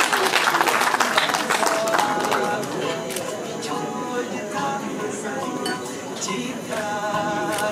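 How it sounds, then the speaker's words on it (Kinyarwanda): Wedding guests clap together at the celebration of Bahati and Cecile, a dense, steady wash of applause mixed with clinking dishes and murmuring voices throughout. "tumukomere amashyi menshi cyane."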